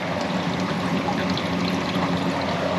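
Water runs steadily into a homestead water tank, a constant broadband rushing and trickling pour that fills the whole stretch at even loudness with no voices.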